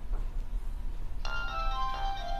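A phone ringtone cuts in partway through, a bright repeating electronic melody for an incoming call inside a furnished apartment during a viewing, over a quiet room background.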